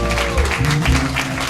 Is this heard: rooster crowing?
no